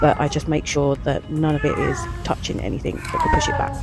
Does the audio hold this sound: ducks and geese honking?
no